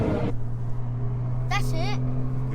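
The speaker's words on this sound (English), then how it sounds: "That's a good height for the window, so you can still hear the B58, and there's not much wind noise." BMW M140i with a tuned B58 inline-six engine heard from inside the cabin while driving with the window partly down, a steady low drone throughout while people talk over it.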